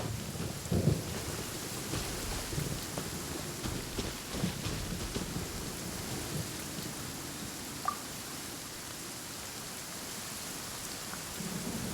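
Video-game thunderstorm with steady rain and wind, low rumbling thunder rolling through, and a brief sharp lightning crack partway in; no talking.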